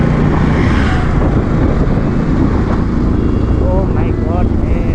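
A Bajaj Pulsar NS 200 motorcycle runs at high speed on an Indian road, its engine a loud, constant drone mixed with heavy wind rush from start to finish.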